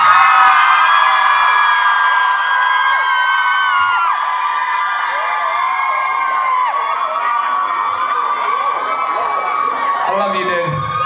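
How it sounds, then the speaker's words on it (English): A large crowd cheers loudly and continuously at a London academy event, whoops and shouts blending into a sustained roar with children's high yells rising and fading. "one last massive, massive cheer for Charlie Leftwich, everybody."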